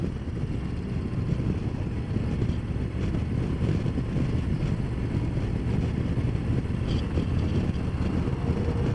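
Wind rushes past a rider on a 2023 Harley-Davidson Low Rider ST at cruising speed, a steady loud low roaring buffet with engine rumble underneath, unbroken throughout.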